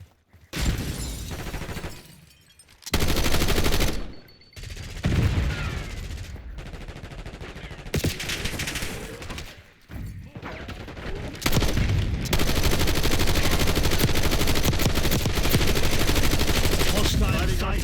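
Loud LMG fire in Call of Duty: Black Ops 6, with long sustained automatic bursts broken by brief pauses and sharp cracks, set close against game ambience, plus occasional faint game voice lines.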